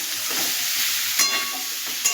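Boiled green jackfruit fries in oil in a wok with a loud, continuous sizzle and hiss, close up. A couple of brief clinks from stirring break through near the end, and no one talks.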